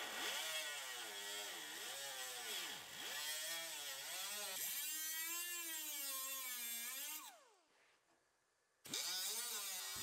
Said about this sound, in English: So now we're going to trim our other side just to match.